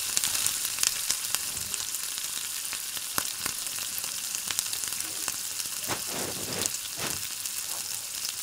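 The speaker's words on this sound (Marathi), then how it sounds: "आता आपण हा दुसरे जे आहे ते पण टाकून फ्राय करून घेऊ" Sweet potato gulab jamun balls fry in hot oil with a steady, close sizzle and scattered sharp pops and crackles throughout.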